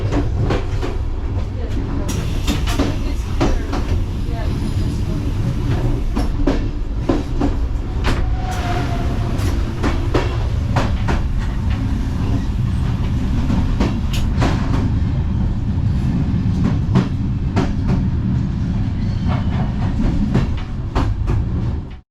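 PKP Intercity EuroCity passenger train rolling along rails in Poland, a steady loud rumble with repeated clickety-clack wheel beats throughout, heard from onboard.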